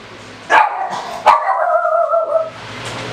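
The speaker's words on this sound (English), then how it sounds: "My doggy barked." A pet dog barks twice in quick succession indoors in a home kitchen, followed by a short whining whimper, close and fairly loud, with no one speaking.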